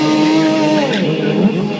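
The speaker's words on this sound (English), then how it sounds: "right back into some more burnouts, keeping those Bridgestone tires spinning" A motorcycle doing a burnout at a street jam with Bridgestone tires spinning, giving a loud, close, sustained engine whine and tire screech that wavers in pitch for about two seconds, with no talking.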